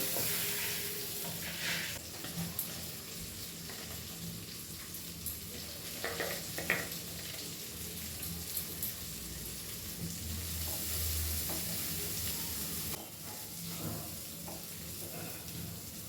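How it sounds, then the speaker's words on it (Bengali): Rice and lentils frying and being stirred in a pan for bhuna khichuri, a steady sizzle with scattered scraping stir strokes running throughout, close and moderately loud, no talking. "এবার আমি চালটা দিয়ে দেবো, আর ডালটাও দিয়ে দেবো।"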